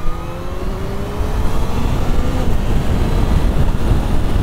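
A Kawasaki Z H2 motorcycle pulls out and accelerates hard past a car on the road, its engine note climbing steadily and growing louder under heavy wind rush, with no talk.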